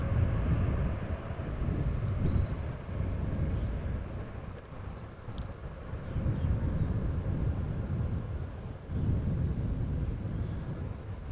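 A nine-year-old Boeing 787 Dreamliner at Amsterdam Schiphol Airport gives a distant low rumble of jet engines that rises and falls in gentle swells, with faint wind noise.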